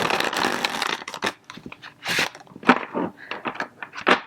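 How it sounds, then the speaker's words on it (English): Tarot cards shuffled by hand near the microphone, uneven bursts of riffling and crinkling card noise with brief pauses and soft thumps between them. "I'm trying to shuffle."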